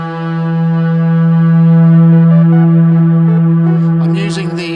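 A sustained UNO Synth Pro synthesizer tone held steady and loud, its buzzy harmonic drone swelling slightly and then trailing into delay repeats and reverb wash near the end.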